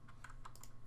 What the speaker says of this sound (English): press C on your keyboard